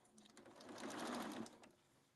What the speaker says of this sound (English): I'm gonna just put this into under my foot at the corner here, and I'm just gonna sew